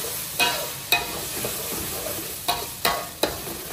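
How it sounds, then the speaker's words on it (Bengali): Cumin and coriander paste, ground coriander mixed in, frying in a pan for a beef liver dish as it is stirred, giving a steady close sizzle broken by sharp scraping clicks from the spoon, with no talking. "এইভাবে আমি কিছুক্ষণ লাড়াচাড়া করবো।"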